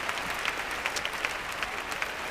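Crowd applause at a ballroom dance championship, the 2005 European Standard Championship in Russia, a steady even clapping wash with no voices over it.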